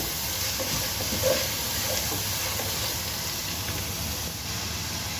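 Tomatoes frying in a pan, giving a steady low hiss of sizzling, close and fairly quiet, with no one talking.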